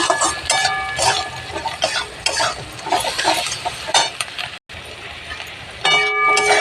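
Fried onions stirred in a pan with turmeric and salt give a steady, close sizzle with continuous scraping and clinking of the spoon, pausing briefly once before resuming.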